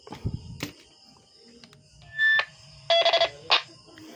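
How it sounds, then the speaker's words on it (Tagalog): A two-way radio's roger beep sounds as a few short, clean electronic tone bursts close up, preceded by sharp clicks and quiet gaps. "Okay, then ito yun sa volume ng beep. Yan, Roger Beep."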